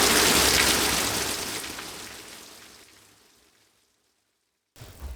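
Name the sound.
rain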